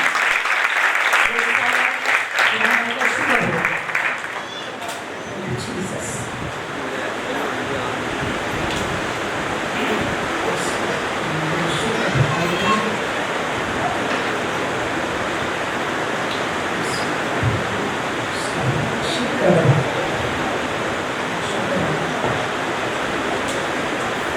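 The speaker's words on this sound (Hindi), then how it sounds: "आप सबकी भरपूर तालियों में" A church congregation in Malir, Karachi, marking a first anniversary, bursts into sustained applause that carries evenly for over twenty seconds, dense and steady, with voices mixed in under the clapping.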